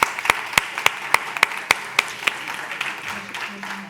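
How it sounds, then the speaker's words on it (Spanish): Applause greets speakers at a session on urban time and sustainability policy. Sharp, evenly spaced claps from one nearby person ring out over softer background clapping, fading near the end as a faint voice or tone comes in. "un aplauso para ellas"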